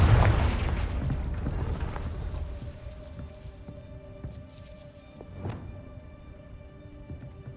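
A Confringo explosion spell goes off in Hogwarts Legacy with a heavy, booming blast that rumbles and slowly fades, then a second, softer burst follows a few seconds later.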